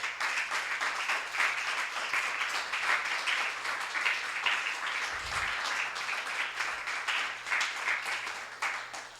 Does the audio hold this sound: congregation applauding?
yes